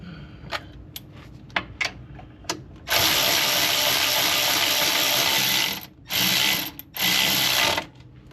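A ratchet tightens a bolt fitted with washers on a Chevy Nova: a few sharp clicks, then long loud continuous ratcheting bursts with brief pauses between them, close and alone.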